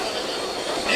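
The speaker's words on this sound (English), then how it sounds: "Noise you may hear in the background, the night train tracks up above us and behind us" An elevated night train runs on tracks overhead at a New York City street intersection beside a baseball game, a brief steady wash of distant rumble and hiss under the scene.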